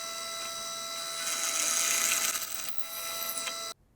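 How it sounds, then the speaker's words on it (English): Power drill boring straight through a wood block with a 1/4 inch brad point bit for a threaded insert jig: a steady, close, whining motor drone that holds for several seconds, then cuts off abruptly. "and I'm just going to drill straight through."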